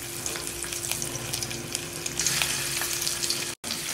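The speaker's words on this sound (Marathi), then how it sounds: "याला मध्यम गॅसवर तेल सुटूपर्यंत याला परतून घेऊ." Gravy paste with cumin frying in oil in a kadai over medium heat gives a continuous, even sizzle with faint stirring scrapes, close up and without talk.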